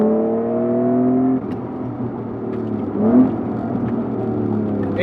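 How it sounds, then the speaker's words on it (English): An Acura NSX fitted with a custom AEM exhaust revs up, a close, steady engine drone with a clear rising pitch sweep partway through, then settling back to a rumbling hum. "Custom AEM exhaust doing its job."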